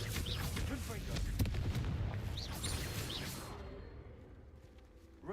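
A Confringo fire spell in the Hogwarts Legacy video game erupts in a loud, rumbling fiery blast with whooshing bursts, gradually fading into a quieter tail, with game voices mixed in.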